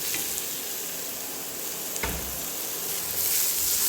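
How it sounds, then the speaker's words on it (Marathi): Potatoes and onion frying in a pan, a steady close sizzle with scraping stirs and a thump partway through as the mixture is turned, growing slightly louder toward the end. "चांगला कांदा भाजू, बटाटे टाकून चांगलं मिक्स करायचं"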